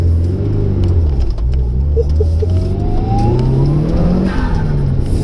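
A loud Mitsubishi Evo 5 modified car engine revs hard and climbs in pitch, shifting up through second and third gear to about 5,000 RPM as it accelerates, close and continuous.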